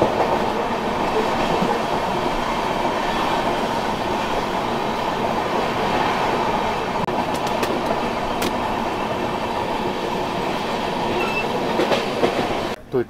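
Riding aboard the Sealdah–Bikaner Duronto Express as it runs through Durgapur railway station without stopping, a loud continuous rumble of wheels and carriages with faint rhythmic clatter and a few sharp clicks, no voices.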